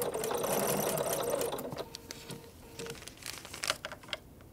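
A sewing machine stitches across quilting fabric while half-square triangles are pieced, its steady mechanical whir running for nearly two seconds before breaking into shorter bursts and clicks, close and fairly quiet, with no talking.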